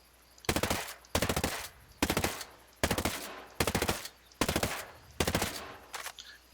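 Assault rifle fire in Ghost Recon Breakpoint comes in seven sharp, loud automatic bursts of roughly half a second each, separated by brief pauses.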